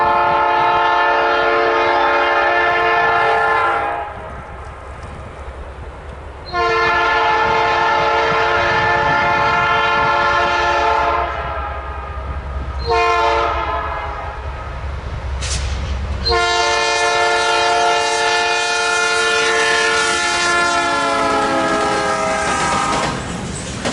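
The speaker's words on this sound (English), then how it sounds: "I found myself in Bicycle to catch CN A442 at mile 92. He was being led by two back-to-back -9s this evening." A CN freight train led by two back-to-back locomotives passes at mile 92 on a winter evening, its horn blaring in long loud blasts over the deep rumble and clatter of the moving cars.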